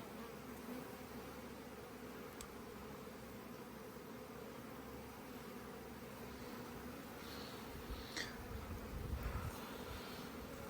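A steady, dense buzzing of many honey bees in a hive fills the clip continuously, close and even, with a few brief louder swells near the end.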